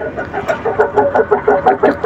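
A water heater under reconditioning, with its circulation pump running and valves open, gives off a rhythmic series of clucking pulses like a laying hen, close and fairly loud, repeating about every quarter second.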